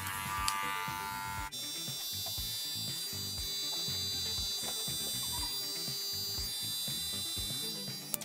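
Electric hair clippers buzz continuously close by while trimming an undercut, a steady high whine with tonal overtones and small shifts as the blades move through hair, no talking.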